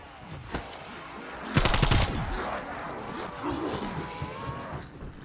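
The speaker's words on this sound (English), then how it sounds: "Just shot a zombie." A short, loud burst of rapid gunfire in the video game Call of Duty Zombies, with lighter shots and game noise before and after.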